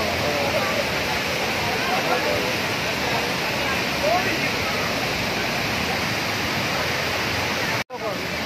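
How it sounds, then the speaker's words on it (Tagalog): A steady, roaring rush of falling water at Taytay Falls in Majayjay, Laguna, fills the scene, dense and constant, with a voice speaking faintly beneath the noise. "Guys, dito kami ngayon sa Taytay Falls."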